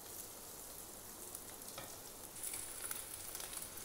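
Paneer fry masala stirred in a pan, with a steady low sizzle and faint scraping throughout, no voices.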